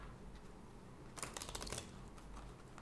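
A deck of Divine Doors oracle cards is shuffled in one brief papery burst of riffling, close and fairly soft against a quiet room.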